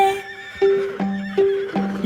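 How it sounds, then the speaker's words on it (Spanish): A toy-like pony whinny repeats four times in a steady, loud rhythm, each neigh a clear tonal call with soft clip-clop hoof taps between them, heard alone without talk. "Los ponis de peluche relinchan todo el día"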